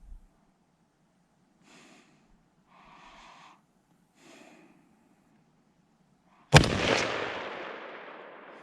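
A single loud rifle shot fired close by at about six and a half seconds, a sharp crack followed by a long ringing decay, after soft breathing and faint rustles in an otherwise quiet setting.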